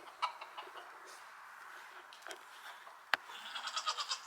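Goats and chickens call in a farmyard, with faint scattered clucks and bleats at a distance, a sharp knock partway through, then a quick run of chicken-like calls near the end.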